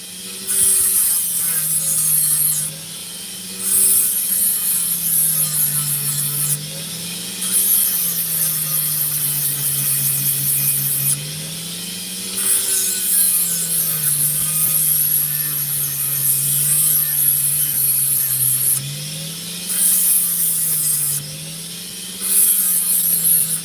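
An opal stone being smoothed down on lapidary cutting equipment, heard as a close, steady whirring grind with rubbing strokes that rise and fall and briefly cut out every few seconds. No one speaks.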